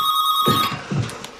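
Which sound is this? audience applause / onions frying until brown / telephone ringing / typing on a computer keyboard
telephone ringing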